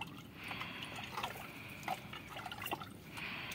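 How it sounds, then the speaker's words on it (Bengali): About a litre of water is poured into cooked rice in a clay pot, making a soft, close trickle and splash with small drips, steady and moderately quiet with no voices. "জল দিয়ে দিলাম"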